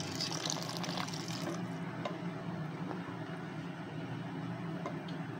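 Hot water steadily poured into a pot of vegetables for a leek and potato soup, a continuous close splashing and gurgling stream with no pauses.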